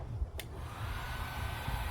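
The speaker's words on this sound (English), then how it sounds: "more fun with the heat gun" Heat gun blowing hot air to bend a pipe, a steady close rushing whoosh that holds unbroken for the whole moment, with one brief higher tick early on.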